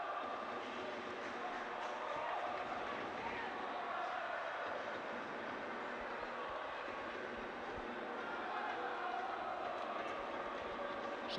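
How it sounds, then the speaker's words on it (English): Recorded crowd noise played over the stadium speakers at Motherwell during a Europa League qualifier against Glentoran, a steady, distant wash of crowd murmur and roar running continuously with a voice talking over it. "So the crowd noise you can hear is being supplied by Motherwell."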